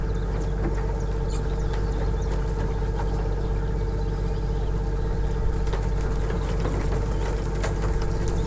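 A tour boat engine idles steadily nearby on the water at Wicken Fen, a constant low rumble with a faint tonal hum and no one speaking.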